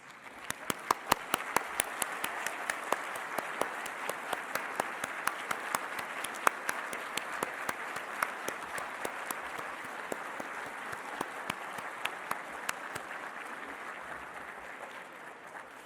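An audience at an architects' recognition lunch applauds newly licensed members, a long, even patter of many hands clapping with crisp individual claps scattered throughout, slowly thinning toward the end.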